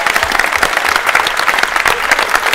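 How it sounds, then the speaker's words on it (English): Spectators at a championship final give loud, close applause, with individual hand claps standing out in a fast, steady patter that lasts the whole stretch. "can we please give a huge round of applause to his opponent, Ashok."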